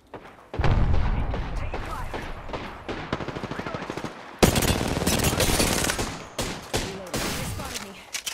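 Apex Legends firefight with a sharp burst of close automatic gunfire, then rapid repeated shots and thuds in irregular clusters, loud and near, with a voice speaking in between.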